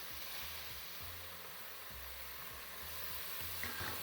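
Minced meat frying in a pan for a cottage pie makes a steady, even sizzle that carries on without a break under a low rumble, with no talking.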